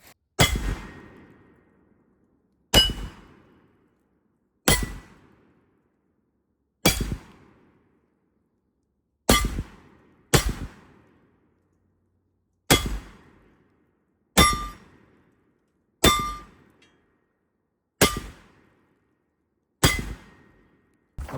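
Rifle bullets ring off a steel target, a series of about a dozen sharp metallic clangs spaced a second or two apart, each decaying quickly into silence, heard at a distance without talk.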